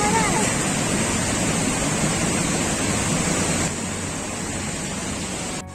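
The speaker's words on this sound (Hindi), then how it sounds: "वाटरफॉल काफ़ी अच्छा था, मतलब यहीं से निकल कर के नीचे की तरफ जा रहा था ना" Steady roar of a waterfall near a Sikkim mountain temple, a broad continuous rush of falling water that stays loud and close throughout, easing slightly toward the end.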